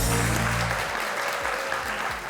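A studio audience applauds to welcome the host of a talk show, a dense burst of clapping that fills the short moment, close and loud with no voices over it.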